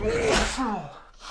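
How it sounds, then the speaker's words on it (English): A single close sneeze on a live talk show, a sharp breathy burst with a voiced tail that fades quickly. "You get to sneeze on air."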